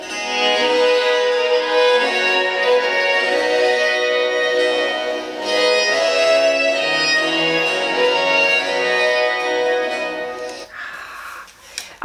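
A recorder ensemble plays Praetorius's Spagnoletta with all voices together, sustained, layered tones flowing in a slow, steady line that fills the room before stopping.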